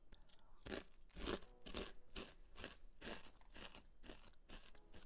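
Crunchy Chex Mix snack chewed right at the mouth: a steady run of about nine sharp, dry crunches in an irregular rhythm, close and clear, with no talking.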